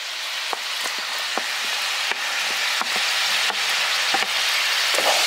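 Fried potatoes stirred into a sizzling pan of spicy village-style garlic potatoes, a steady loud crackling sizzle punctuated by sharp clinks and scrapes of the spoon, with no voices.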